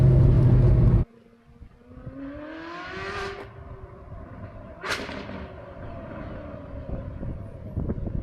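A Ferrari 458 V8 exhaust with its valves closed gives a muted note. A loud opening noise drops away, then the engine climbs through smooth rising revs, with a sharp blip midway.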